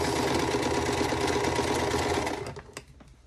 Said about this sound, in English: so I'm hoping it won't take long to sew these blocks